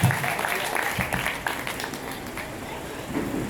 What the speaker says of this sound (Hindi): आप एक बार बड़ी तालियों से वसूल की अगवानी कर दीजिए